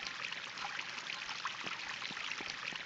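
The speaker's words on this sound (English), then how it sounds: "Man, the water is so loud." Steady rushing water fills the clip in the video game Epic Chef, a continuous bright splashing flow with a few faint droplet plinks, no voices.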